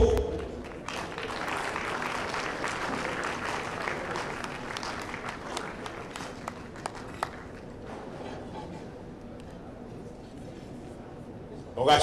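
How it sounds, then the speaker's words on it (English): Sustained applause from a crowd, steady clapping for several seconds, with background voices and a few sharp louder claps toward the end. "A big resounding round of applause for Elizabeth Opoku."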